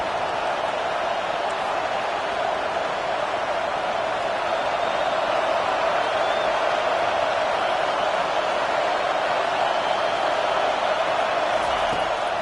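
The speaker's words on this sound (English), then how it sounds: "Decibels rising as the crowd gets behind this defense on 3rd down." A college football stadium crowd roars steadily as the defense faces 3rd down, a dense sustained wall of cheering from a packed stands.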